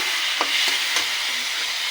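Onion and chili sizzle steadily in a pan, with a few soft scraping strokes of a spoon stirring through the hiss; no voices.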